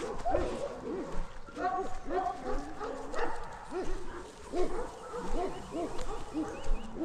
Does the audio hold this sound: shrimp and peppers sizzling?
no